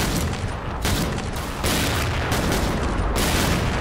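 Gunfire in the shooting video game XSHOT, a dense, loud, continuous volley of shots with several heavier bursts in close succession over steady background noise, with no talking.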